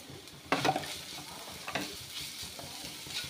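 Mixed vegetables with chilli flakes sauté in a pan, giving a soft continuous sizzle with a couple of louder stirring scrapes near the start and middle, close by and with no speech.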